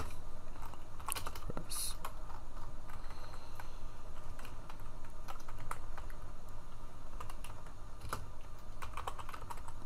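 Computer keyboard typing Prolog code, a steady run of quick, close key clicks with occasional heavier keystrokes over a constant low hum.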